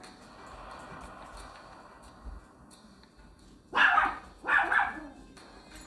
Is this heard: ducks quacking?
no